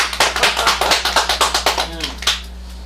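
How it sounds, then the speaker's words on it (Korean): Audience in a Buddhist dharma lecture hall clapping in unison, a steady rhythmic run of sharp claps close by that tapers off near the end, with a brief murmur of voices. "박수 한번 더 주세요."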